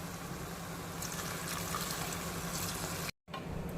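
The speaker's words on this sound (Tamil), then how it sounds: "ஒரு உலக்கு அரிசிக்கு ரெண்டு உலக்கு தண்ணி நான் எடுத்து வச்சுருக்கேன் அதை ஊற்றிக்கலாம்" Water pours steadily into a clay pot for prawn dum biryani, a continuous, faint gurgling splash with a brief dropout near the end, no talk over it.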